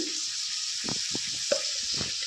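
Pointed gourd, potato and egg pieces fry together in a pan with a steady, close sizzle, broken by several short scraping stirs of the spatula.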